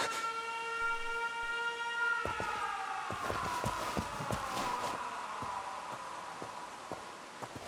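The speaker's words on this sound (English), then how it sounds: "The siren." A video game air raid siren wails, holding a steady tone, then slowly falls in pitch, with sharp thuds and knocks scattered over it.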